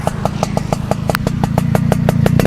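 A restored 1998 Yamaha Sigma two-stroke motorcycle engine runs steadily at close range, its rapid crackling exhaust pulses and rising, buzzy drone continuing throughout with no talking.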